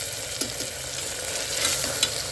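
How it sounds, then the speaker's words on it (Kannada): Tomatoes fry and are stirred in a pan while cooking a mushroom egg biryani, giving a steady close sizzle with a few soft scraping stirs and no talking. "ಟೊಮೊಟೊ ಕೂಡ ಅದೆಲ್ಲ ಫುಲ್ಲು ಸ್ಮ್ಯಾಶ್ ಆಗೋ ತನಕ ನಾವು ಫ್ರೈ ಮಾಡ್ಕೋಬೇಕು."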